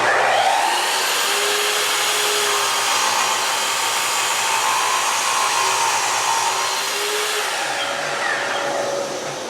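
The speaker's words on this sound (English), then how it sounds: "So I'm going to use the chop saw to trim the top and the bottom to final length." A chop saw trims the top and bottom of wooden cabinet parts to final length against a stop block, its motor giving a loud, steady, broadband whine that runs nearly unbroken for about nine seconds before easing off slightly.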